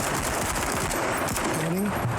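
Chain gun fire in the tactical video game Menace rattles in a rapid, steady stream of close shots throughout, with someone talking over it.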